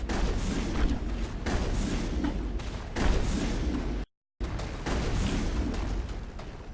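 Enemy gunfire in the Mass Effect video game: continuous heavy bursts of shooting and booming impacts with almost no pause, filling the whole scene, broken only by a brief silent gap.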